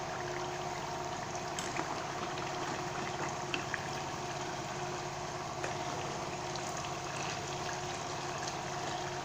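Crab stew with crab legs bubbles and simmers steadily in a pot while it is stirred, a low continuous watery churn with a few faint scrapes, fairly quiet and with no talking.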